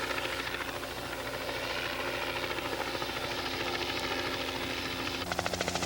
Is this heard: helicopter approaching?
yes